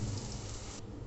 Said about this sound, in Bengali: এখন আর ঢেকে দিব না, এভাবেই ভেজে নেব।